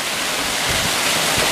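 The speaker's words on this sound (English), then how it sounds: "We're out here at this waterfall now." Steady broadband rush of a waterfall, continuous and fairly loud throughout with no distinct events, heard from close by with no talking.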